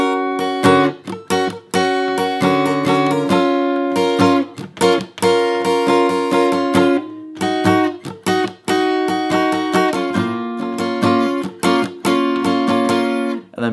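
Electric guitar picking a repeating riff, with clean plucked notes and short gaps recurring in a steady pattern, played alone at close range.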